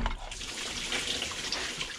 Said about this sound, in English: Every time you disconnect something, there's just always more water.